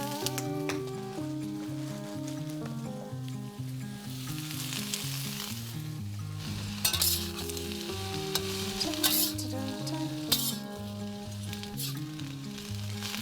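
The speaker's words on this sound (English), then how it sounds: "You want to stir fry the cabbage for about 1 to 2 minutes." Chopped cabbage is stir fried in a pan with a continuous loud sizzle and crackle, accompanied by scraping stirs and a musical backing.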